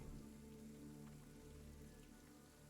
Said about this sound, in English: Oh, are we leaving in this rain? In the storm?